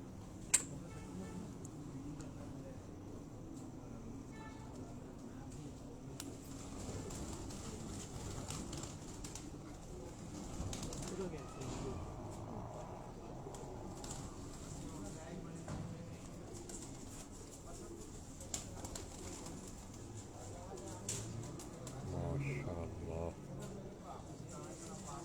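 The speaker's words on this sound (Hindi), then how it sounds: "ये सलारा ब्रीड के ये कबूतर" Salara breed pigeons, held by a fancier in Haripur Hazara, coo on and off in low rolling phrases amid people talking nearby, with occasional light clicks and handling noises.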